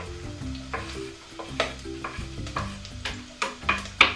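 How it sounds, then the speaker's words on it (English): Onions sizzle in two tablespoons of hot cooking oil as they are stir fried, a soft crackling hiss broken by repeated scraping and clattering stirs close by. "2 tablespoons of cooking oil again, just for the onions."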